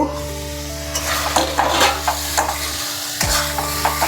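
Brinjal sautés in a pan, a steady close sizzle carried through by repeated stirring scrapes and light knocks of the spoon.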